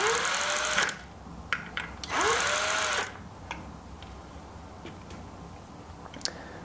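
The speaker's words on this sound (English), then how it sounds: "You'll note that I am installing this load cell with power tools." A cordless power tool set to its lowest torque drives screws into a load cell in two short whirring bursts about a second each, followed by quiet clicks and handling noises.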